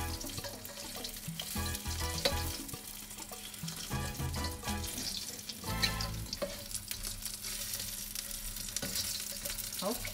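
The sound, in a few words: Asian chicken wings frying while being stirred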